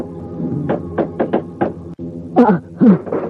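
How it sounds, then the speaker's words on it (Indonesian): A house door is pounded on in a rapid series of loud knocks, followed by a couple of heavier, drawn-out thuds with a low hum underneath. "Pintu rumah kita digedor keras sekali."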